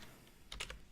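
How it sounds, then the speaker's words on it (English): Fingers type a short burst of keystrokes on a computer keyboard, a few close, crisp clicks clustered together after a quiet moment, with no talking. "Sorry, my typing isn't too great."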